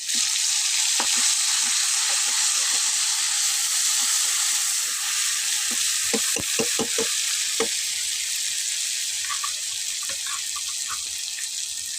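Spice paste fries in oil in a wok with a loud, bright, constant sizzle, broken by a few soft taps and stirring knocks near the middle.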